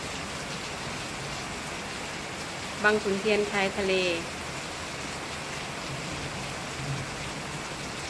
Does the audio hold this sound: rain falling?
yes